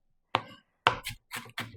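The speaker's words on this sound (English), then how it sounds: "And yes, I am chopping this fine." Knife chopping onion finely on a board for Southern potato salad: four distinct chops in an uneven rhythm, close and fairly loud, with no talking.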